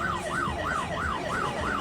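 Police car siren wailing in a rapid, steady up-and-down yelp, moderately loud and continuous against background street noise.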